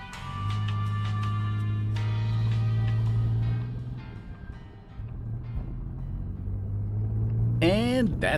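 Cobbled-together car with a computer-controlled supercharged Kubota diesel engine taken from a refrigerated semi-truck trailer, droning with a steady low engine rumble that dips briefly and then returns, ending in a sharp rising whine.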